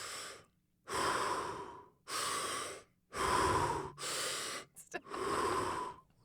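Rapid Wim Hof-style breathing exercise: five long, forceful breaths in and out, close to the mic, separated by brief pauses, ending with a quick double gasp before a final breath, no speech.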